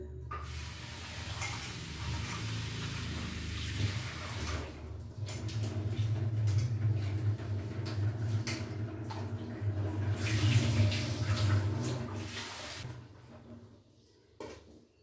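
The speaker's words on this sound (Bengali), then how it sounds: "চাল নিয়েছি, এবার চালটা আমি একটু ধুয়ে নিই।" Rice being washed by hand in water for a vegetarian meal, close swishing and sloshing that rises and falls in uneven waves, then stops near the end, with no talking.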